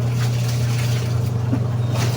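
An old washing machine, about ten years in use and with a worn belt, runs with a constant low motor hum and a faint watery churn underneath. No one speaks.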